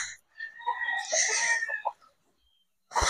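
Chickens and chicks at a poultry farm cluck and cheep in a close, busy burst lasting most of the moment, then fall quiet before a sharp noise at the end.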